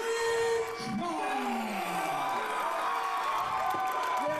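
A dense, loud wrestling arena crowd cheers and shouts for the FSW World Heavyweight Champion, a steady roar with rising whoops and yells throughout.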